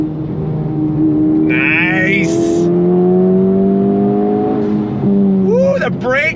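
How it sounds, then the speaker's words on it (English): A Honda Civic Type R FL5 engine climbs steadily on throttle, its rising drone filling the car interior and swelling loudly before a shift. Someone speaks briefly near the end. "We're gonna go on throttle in this Type R."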